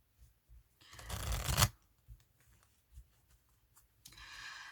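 Tarot cards are shuffled in a short burst of riffling and rustling, loudest for about a second near the start, then gentle card handling, with another softer stretch of shuffling at the end.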